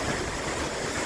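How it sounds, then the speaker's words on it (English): Iceland's south-coast waterfall roars from behind the falling curtain, a steady broadband rush of pouring water filling the whole short stretch with no voices. "Now we're on behind the waterfall."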